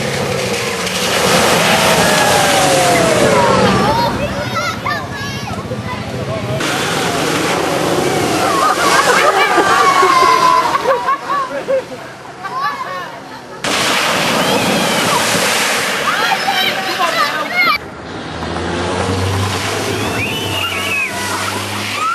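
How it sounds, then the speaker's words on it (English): A car ploughs through the water ford at Rufford Country Park, throwing up heavy sloshing splashes in several broad bursts, with crowd chatter and cheering running underneath throughout. "you too can cheer the car that makes the biggest splash"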